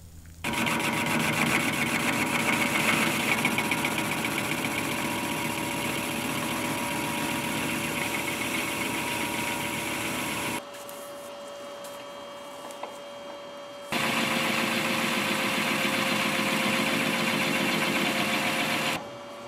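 Metal lathe running with a high speed steel cutting tool, giving a steady mechanical hum and whine that stops for about three seconds midway and then resumes at the same level, close and without voices.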